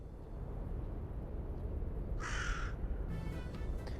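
In the video game S.T.A.L.K.E.R.: Clear Sky, a single crow caws loudly over a steady low background rumble, followed a moment later by a fainter, raspy caw.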